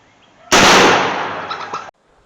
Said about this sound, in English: we're going to try out another one of those 700 grain bullets